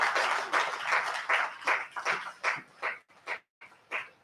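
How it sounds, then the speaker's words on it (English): An audience at an entrepreneurial education summit claps for a speaker with steady, fairly loud applause that thins into scattered claps toward the end. "a round of applause for our speaker"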